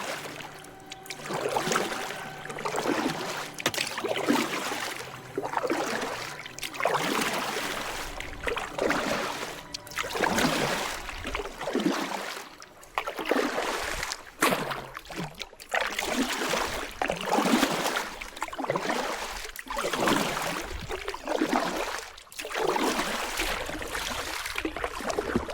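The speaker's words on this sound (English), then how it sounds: "I stopped the outboard and started paddling." Rhythmic splashing strokes of a paddle propelling a small lightweight boat on a river, repeating every second or so, close by and steady, with gentle trickling between strokes.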